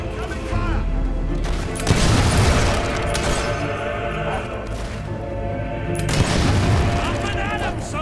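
Gunfire and booming explosions from the video game Fable III keep up a loud, dense barrage, with heavy blasts swelling near the two-second and six-second marks.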